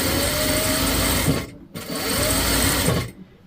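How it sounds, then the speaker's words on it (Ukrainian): An overlock sewing machine stitching lace onto a dress runs loud and close in two steady bursts of fast whirring, separated by a short pause, with no talking. "На оверлоці я все шию, буде дуже сильно кайфово."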